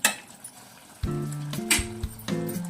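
Chicken fries in a pan, sizzling and crackling with short bursts of stirring and clinking of a utensil against the pan, close and fairly quiet, no talk.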